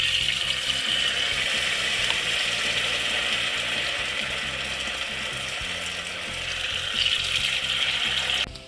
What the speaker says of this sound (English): let's try and fry one piece and see. Make sure the oil is hot.